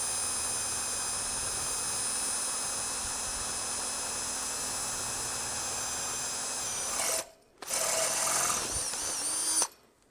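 A power drill bores steadily through metal in a forge workshop, a loud, continuous whine that holds for about seven seconds, then briefly stops and starts again before cutting out.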